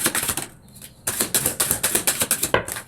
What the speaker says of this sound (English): let's just give these a quick shuffle